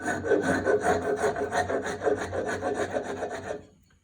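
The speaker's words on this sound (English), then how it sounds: "If I need medium material, I can use a rasp." A rasp files a wooden tool handle in quick back-and-forth strokes, about a dozen rhythmic rasping scrapes, close and loud, stopping abruptly near the end with no talking.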